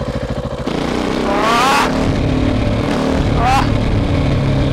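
A KTM SMC R 690 single-cylinder motorcycle with a Leovince exhaust thumps at idle, then revs hard and pulls away loud and close with two rising throttle bursts while the rider exclaims.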